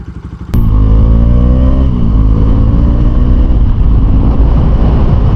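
A motorcycle in for engine work starts abruptly and revs loudly close by, then settles into a steady rumbling idle with slight fluctuations.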